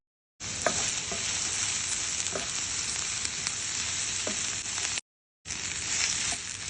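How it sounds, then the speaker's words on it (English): Onions frying and caramelizing in a pan, a steady close sizzle with occasional crackles and stirring clicks that cut out briefly before resuming. "So while those onions are cooking away"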